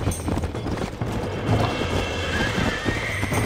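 A horse in the Red Dead Redemption video game, its hooves clopping in a steady rhythm over a dense game soundscape with mechanical creaks and a whinny, loud and close.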